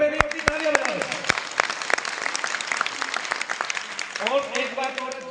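An audience at a religious gathering applauds loudly, with a sustained wash of clapping throughout and a few sharper individual claps standing out, while a speaker's voice carries over it.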